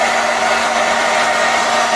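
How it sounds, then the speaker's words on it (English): A hair dryer blows steadily and loudly at close range, keeping a freshly painted King Motor T2000 Desert Truck model body warm, a constant whirring rush with no pauses. "hairdryer set up, keeps it all warm while the paint's drying"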